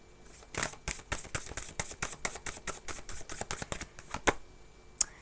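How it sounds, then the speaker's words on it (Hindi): Tarot cards being shuffled by hand, a quick run of crisp riffling slaps and flicks in an uneven rhythm, close and fairly quiet with no talking. "एक minute, let me shuffle properly."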